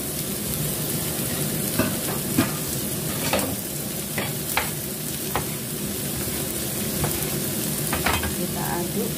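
Tomatoes fry in a pan for spicy pindang with a constant close sizzle while a utensil scrapes and stirs, making short clicks and scrapes at irregular intervals.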